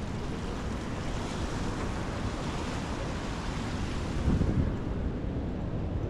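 Ocean surf rolling in at Imperial Beach pier in San Diego, a steady broadband wash of waves with wind buffeting the microphone, continuous and fairly loud with no talk.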